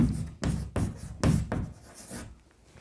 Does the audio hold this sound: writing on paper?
yes